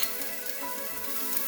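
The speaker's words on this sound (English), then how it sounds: "A little oil in there. Shallots." Shallots sizzle in hot oil in a pot, a close, steady hiss and crackle that holds for the whole short moment with no voices.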